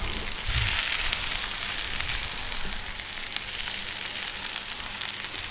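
Spiced keema-style potatoes frying over an outdoor firepit, a steady broadband sizzle and crackle throughout, close and fairly loud, with no talking.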